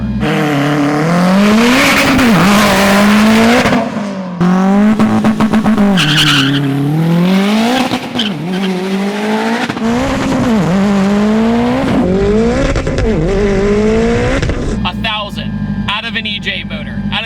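A 1000-horsepower all-wheel-drive Subaru STI with a built EJ boxer engine revs hard in repeated loud wavering bursts while its tires skid and squeal, close and dominant, with brief gaps between pulls.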